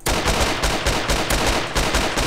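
Rapid gunfire in the video game DayZ: a burst of loud, sharp shots repeating at an even fast rhythm, close and dominant, with no talking.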